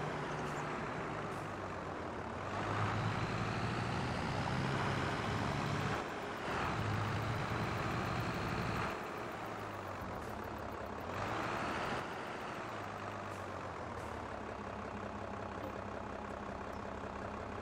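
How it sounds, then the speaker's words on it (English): Big vehicle engine in Farming Simulator 22 running steadily with a deep, heavy drone, shifting in load and pitch over several seconds, loud and continuous without talk. "Big engine."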